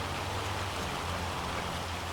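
Steady, dense rain in the video game Farming Simulator 25, a continuous hiss of drops pattering on surfaces with no letup or voices.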